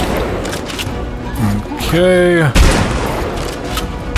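Gunfire in the horror video game Eternal Evil, a short burst of booming shots amid game noise, with a brief spoken word from a player.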